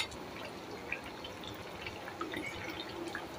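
Fish curry simmering and bubbling in a pot, with small steady pops and gurgles over a soft continuous hiss, close by and fairly quiet with no talk.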